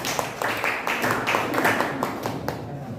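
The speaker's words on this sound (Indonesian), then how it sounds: "Tepuk tangan semuanya" A group of high school students clap together at a school assembly, the claps coming in uneven bursts with a few distinct sharp slaps standing out against faint background murmur.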